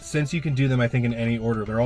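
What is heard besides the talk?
No distinct noise like a dog, phone or traffic.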